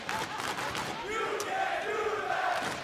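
A crowd chants and cheers at an esports match, a Call of Duty League game between the Los Angeles Guerrillas and Minnesota RØKKR. The chant is a broad, sustained roar with rising tones, and a commentator's voice sits faintly in the mix.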